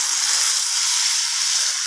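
Water poured into a hot pan of sautéed spices for tomato soup produces a steady, close hissing sizzle that runs evenly throughout.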